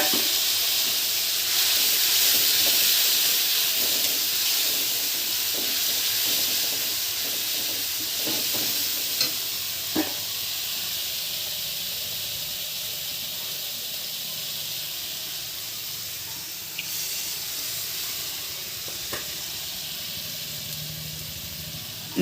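Mustard paste and spices sizzle hard in hot oil over fried onions as a prawn curry with large freshwater prawns cooks, a steady close hiss throughout with a few faint clinks and no talk.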